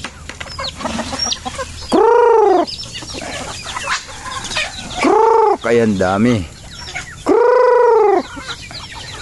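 A flock of backyard chickens clucks and lets out several loud, drawn-out squawking calls close by, while a person speaks briefly between the noisy bursts.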